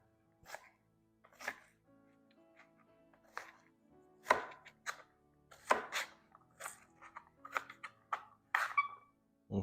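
Onions being chopped on a cutting board for ramen: separate, sharp knife thuds in an irregular rhythm, close and clear against a quiet background, with no speech.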